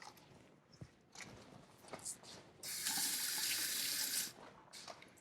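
Scallions rinsed under a running kitchen tap, a loud, steady gush of water lasting a couple of seconds, framed by quieter clinks and handling noises before and after.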